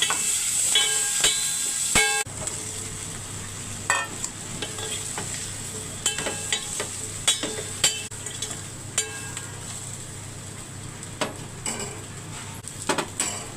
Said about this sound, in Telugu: 5 నిమిషాలు మూత పెట్టుకొని ఆయిల్లోనే వేయించుకుందాం